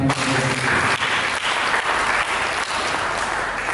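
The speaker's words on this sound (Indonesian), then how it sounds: "Mari kita berikan tepuk tangan yang baik." Church congregation applauding during a sermon, steady dense clapping from many hands throughout, fairly loud and without talk.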